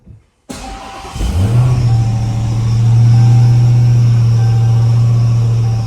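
A car with a Hellcat engine swap starts with a sharp catch and then revs into a loud, steady engine drone close by as it pulls away, running alone without talk.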